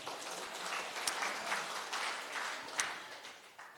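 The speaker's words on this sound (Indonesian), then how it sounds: "Tepuk tangan untuk Bapak Ibu semuanya" Applause from an audience of participants closing an integrated agriculture training session, a steady dense patter of many hands sustained throughout at moderate level with a few sharper claps standing out.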